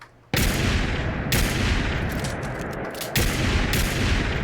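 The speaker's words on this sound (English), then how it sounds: "We could look at this 50 cal double barrel that I got here. This is extremely loud." A modded .50 cal double-barrel shotgun fires in the Fallout 4 video game, three very loud, close blasts, each leaving a long, dense roaring tail that carries on until the next shot.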